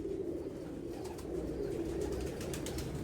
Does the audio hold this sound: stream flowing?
no